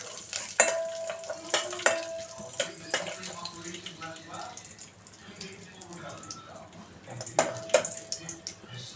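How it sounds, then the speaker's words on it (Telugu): Cashew pieces fry in ghee on a low flame while being stirred, with soft sizzling under intermittent clinks and scrapes of a spoon against the pan, close and moderately loud. "నెయ్యి వేసుకొని కొద్దిగా జీడిపప్పు పలుకులు కొంచెం వేపుతున్నానండి"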